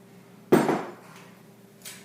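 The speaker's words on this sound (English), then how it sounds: "and relock my mixer" Stand mixer bowl being latched and relocked while making cinnamon twists dough, a single sharp metallic clank followed by a fading ring, then a fainter knock near the end.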